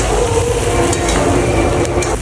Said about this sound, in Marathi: आता याला मिक्स करून आता घेऊ. याला मिक्स करून फिरवून